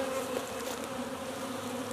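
Honeybees buzz steadily throughout an open hive inspection, a dense, continuous drone of many wings close by with no talking.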